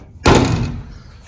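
A car fuel door lid is shut with a single sharp thunk that rings out briefly and fades, heard up close with no one talking.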